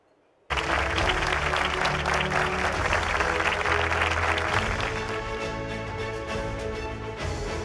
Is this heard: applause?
yes